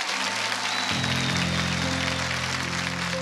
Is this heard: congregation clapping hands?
yes